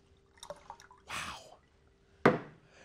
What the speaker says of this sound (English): Stir up the water